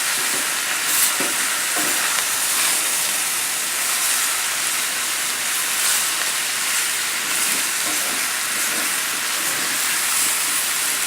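Pork loin, pineapple, mushrooms and broccoli stir-fry over a high flame, giving a loud, steady hiss and sizzle broken by intermittent scraping and clattering of the stirring utensil in the pan.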